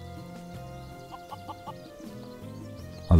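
A chicken in the video game Craft the World gives a quick run of four short clucks over steady game music, with a louder burst at the very end.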